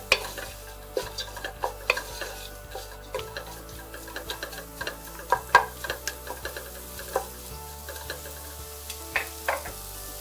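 Dried fish grilling in a pan gives irregular crackles and sharp ticks close by, with a faint sizzle underneath and no voices.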